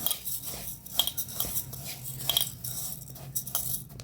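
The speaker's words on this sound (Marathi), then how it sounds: "आता छान असं मिक्स करून घेऊया" Soaked urad dal and rice stirred together in a bowl, with steady scraping and light clinking of a utensil against the sides, close and alone.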